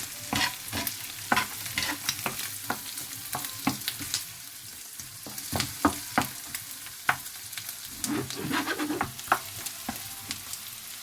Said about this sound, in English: the carrots mix together with the onion and garlic